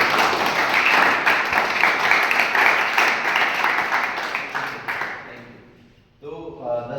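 An audience claps together at a voting day celebration in Udaipur, a broad wash of applause that fades out over several seconds, followed by a brief tonal sound at the end.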